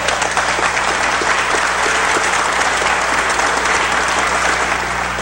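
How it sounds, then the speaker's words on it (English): A large crowd applauds, a broad, steady wash of many hands clapping that holds at even loudness for several seconds over a low constant hum, with no talk. "I think in some cases it's okay to applaud prayer."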